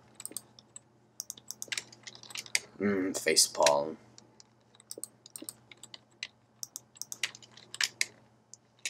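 Someone taps away at a computer keyboard while playing a Minecraft dinosaur mod, with uneven bursts of close, crisp key clicks over several seconds and a brief spoken word partway through.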